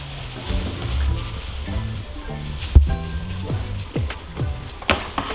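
Peppers, onions, green onions and carrots for bulgogi sizzle and crackle steadily in a hot pan, a close, continuous frying hiss with a few louder pops and knocks of stirring.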